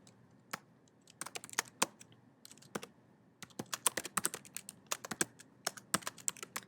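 Typing on a computer keyboard while building a task list in a D2Apps program: quiet, close, irregular clicking keystrokes in uneven bursts with short pauses, no talking.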